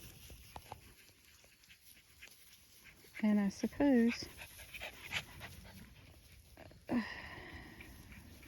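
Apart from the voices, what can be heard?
dogs panting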